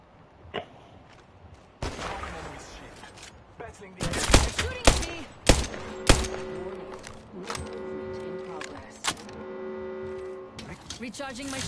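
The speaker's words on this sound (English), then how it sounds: "Shot fired at me." Gunshots fired at the player in the battle royale game Apex Legends: a few sharp cracks and a quick flurry of shots midway, scattered among game effects and a voice talking.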